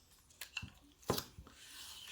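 A short, quiet rip as a strip of tape is pulled off the roll, with a couple of soft crinkling handling noises around it.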